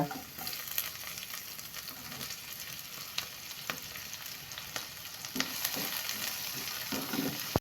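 Onions and green chillies frying in a pan for a vegetable biryani, a steady soft sizzle with occasional clicks and scrapes of stirring, fairly quiet and without talk.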